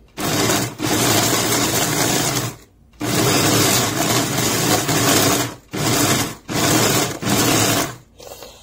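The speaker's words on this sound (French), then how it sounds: "le mixeur n'est pas du tout puissant" A Philips Viva HR2657/90 hand blender runs in loud, steady bursts of whirring motor noise, stopping and restarting several times with brief pauses between runs.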